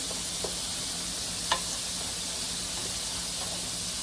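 Cajun dirty rice gets stirred through in a hot, sizzling pan, a steady close frying hiss broken by a few spoon scrapes and clicks.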